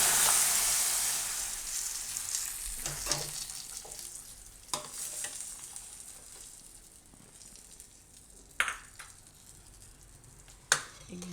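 Red chilies, curry leaves and asafoetida tempered in hot oil and poured into tamarind rasam hit with a loud, sharp sizzle that quickly fades to a soft crackle, with a few clinks of a utensil.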